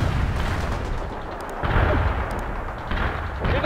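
Battle noise from the war video game The Third World War fills the scene with dense, continuous rumbling gunfire and repeated heavy booms of explosions and artillery.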